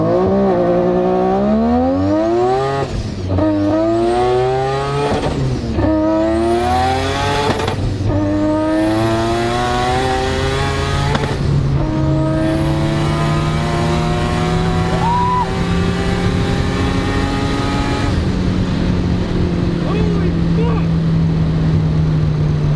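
A high-horsepower race car engine screams close and loud as it accelerates, its pitch climbing again and again with each gear and then holding a sustained high roar.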